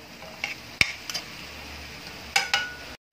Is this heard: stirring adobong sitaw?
yes